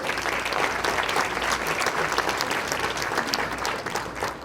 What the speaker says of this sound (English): Big applause for Gloria.